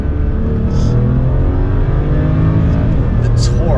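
A turbocharged BMW 335i engine pulls hard under acceleration, its loud rising drone heard from inside the car while someone talks over it.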